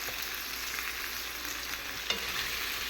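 Potatoes and carrots hit a pan of frying chicken, a continuous bright sizzle with light stirring and one small clack partway through, no voices.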